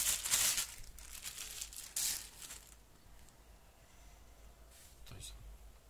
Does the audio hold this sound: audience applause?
no